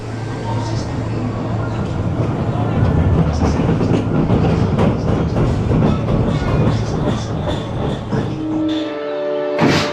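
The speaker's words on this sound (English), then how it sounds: "And here we go on Dino Chase then, and I've got the entire train to myself." A Zierer Tivoli roller coaster train, Dino Chase, rolls along its track with a steady rumble and rhythmic clatter throughout, loud and close from on board, with a voice talking over it.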